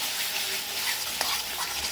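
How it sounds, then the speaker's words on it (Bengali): Onion and spice masala with yogurt is stirred in a frying pan, a soft sizzle under scraping spoon strokes and a faint clink near the middle. "এবার সামান্য টক দই দিয়ে দেবো দিয়ে আবারও ভালো করে নাড়িয়ে নেবো"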